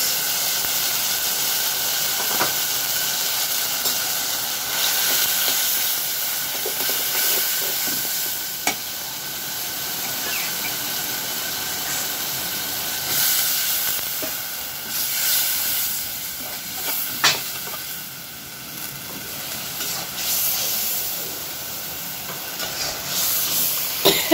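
Curry masala with turmeric, salt, chili powder and ground lentil frying in a pan gives off a steady, close sizzling hiss the whole way through, broken by occasional sharp clicks.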